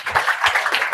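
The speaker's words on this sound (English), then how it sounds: "Okay, round of applause." A business conference audience gives a short burst of applause, a few loud uneven claps close to the microphone.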